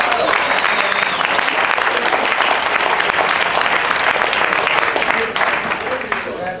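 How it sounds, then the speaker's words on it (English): Sustained applause from a crowd at a love story event, dense steady clapping filling the whole stretch at close range and loud, tapering slightly near the end. "Let's give Nate a big round of applause."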